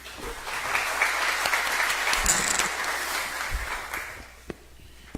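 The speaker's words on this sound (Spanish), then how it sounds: "Vamos a recibir con un fuerte aplauso a Fernando." An audience at a university panel in Arequipa applauds to welcome a speaker, a loud even burst of clapping that fades out near the end with a few last claps.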